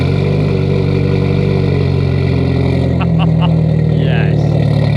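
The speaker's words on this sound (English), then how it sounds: "we're gonna get a nice cold start for you guys." A JDM car engine at a large UK car meet running loud and close after a cold start, a steady throbbing idle with voices talking over it.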